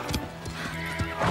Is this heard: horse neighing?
yes